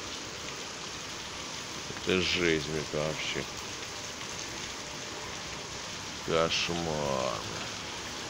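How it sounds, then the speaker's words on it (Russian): Heavy rain pours down steadily in Volzhsky, Russia, a dense even hiss filling the whole stretch, while someone speaks briefly twice over it. "И дождь еще тут наяривает."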